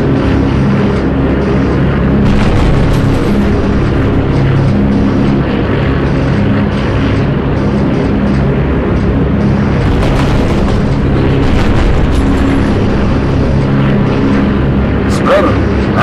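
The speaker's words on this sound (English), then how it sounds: "Simmons ran into some heavy flak here." Anti-aircraft flak bursts boom around a bomber approaching Rotterdam in Call of Duty United Offensive, over a constant loud roar of aircraft engines and rumbling, with intermittent heavier thuds.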